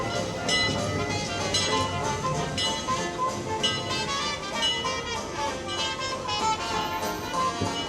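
Disneyland Railroad train rolling along at Christmastime, a steady rumbling clatter of wheels and car noise heard from inside the coach, moderately quiet with faint voices in the background.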